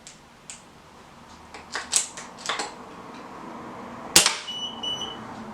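Sharp cracks from a Gamo GX250 air rifle fired over a chronograph, several separate shots at uneven intervals with one louder pop near the end and small mechanical clicks between them, close by and without talk.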